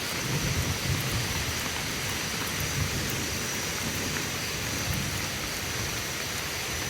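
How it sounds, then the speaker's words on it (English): Heavy rain pours down steadily during a thunderstorm in the Manuel Antonio rainforest of Costa Rica, with dense close hiss and low thunder rumbling underneath, and no voices. "Hear that thunder in the background?"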